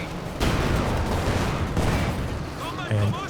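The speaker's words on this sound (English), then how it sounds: "Panzer IV missing with its heat shells going." Battle noise from Company of Heroes 2, with a German Panzer IV tank firing HEAT shells: dense booms and gunfire rumble throughout, with heavier blasts near the start and end, under a faint voice.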